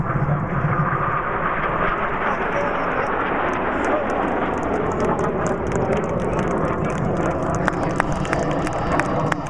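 A steady roar of jet engines fills the air, loud and continuous, like five Italian Frecce Tricolori display jets passing low overhead at the Airpower 2011 air show in Zeltweg.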